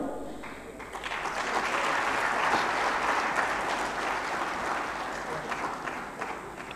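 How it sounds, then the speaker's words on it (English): Steady applause from a summit audience at a management and HRD event in Lahore, many hands clapping in a dense, continuous wash that holds at a fairly even level throughout. "Thank you for the half-hearted applause."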